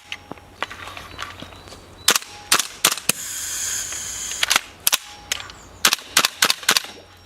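A gas blowback airsoft M16A1-style rifle firing: sharp, snappy cracks, some single and some in quick clusters of two or three, spread across a quiet background.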